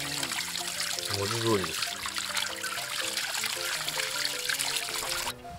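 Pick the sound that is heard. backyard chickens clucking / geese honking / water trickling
water trickling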